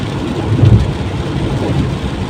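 Steady heavy rain from Tropical Storm Hilary in San Diego roars continuously, with a deep low rumble swelling briefly near the start, like thunder rolling under the downpour.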